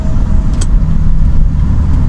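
Morning road traffic on a Riyadh road, heard from inside a moving car: a continuous close engine and road rumble with one short sharp burst of higher noise near the start and no talking.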